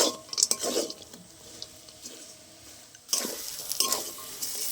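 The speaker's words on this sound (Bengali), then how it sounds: "ভালো করে সব একসাথে আরও ভালো করে মিশিয়ে নেব" A spoon scrapes and clatters in a pan while mixing mashed spiced potato filling for aloo chop with roasted spice mix and nuts. Irregular close scraping, quieter in the middle and busier again toward the end.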